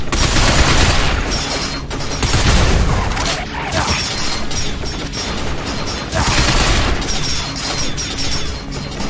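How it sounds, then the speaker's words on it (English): Sustained machine gun fire in the video game Binary Domain, loud and continuous with dense overlapping rattling bursts and occasional heavier impacts, swelling in waves across the whole stretch. "watch out for that machine gun fire"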